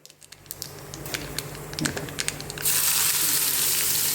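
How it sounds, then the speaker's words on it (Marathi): Mustard-seed tempering crackles in hot oil with scattered sharp pops, then chopped onion goes into the pan for a peel-based chutney and a loud, steady sizzle takes over, close and continuous to the end. "चांगली तडतडून फोडणी आली."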